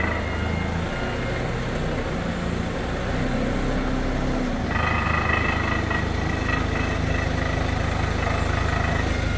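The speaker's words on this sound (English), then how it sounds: "to cut that, we're going to be using our ever rising horizontal bandsaw" A horizontal bandsaw cutting a 2 3/4 inch induction hardened chrome bar to length in a machine shop, giving a continuous steady mechanical drone and whine that shifts pitch partway through, loud and unbroken, with no talking.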